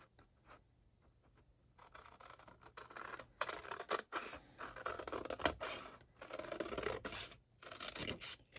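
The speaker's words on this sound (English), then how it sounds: "So go ahead, we're gonna cut him out." Scissors snipping out a small paper penguin shape for a carousel album craft, giving close, quiet cutting and rustling that runs in uneven bursts across the clip, with no talking.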